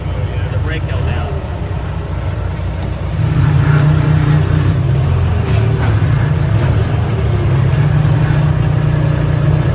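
A small skid steer's engine runs steadily with a low rumble, then revs up and holds a louder, higher drone from about three seconds on.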